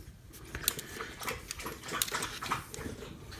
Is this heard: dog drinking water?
yes